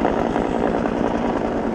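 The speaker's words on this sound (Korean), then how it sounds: "여기 지금 헬기가" Helicopter hovering nearby while ferrying construction materials for a suspension bridge build on Ongseongsan mountain in Hwasun, a loud steady rotor thrum with rapid blade chop, filling the whole stretch with no voices.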